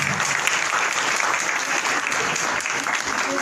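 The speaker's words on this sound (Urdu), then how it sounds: "زور کر تالیاں بجائیے" A church congregation applauds loudly and continuously at a Christmas service, dense sustained clapping filling the whole moment with no talking.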